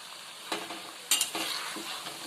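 Soft, steady sizzling of banana flower fritters frying in a pan over medium gas flame, with a few brief scraping stirs of a utensil, quiet and close.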